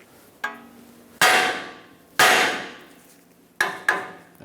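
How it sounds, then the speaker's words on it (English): Five sharp metallic hammer strikes on the steering knuckle of a Ford E-350 Super Duty van, freeing the tie rod, each ringing out and fading, spaced unevenly with the last two close together; loud and near. "Now use a hammer, tap the side of the knuckle"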